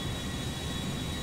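Engines of an Air France airliner in a flight video game spin up for takeoff, a steady, loud jet roar with a thin high whine held throughout, and no speech.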